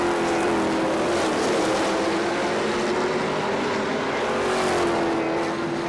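Midget race cars on the final lap at Columbus Motor Speedway, a continuous loud engine drone with a steady pitch that rises and falls slightly as the pack circles the track.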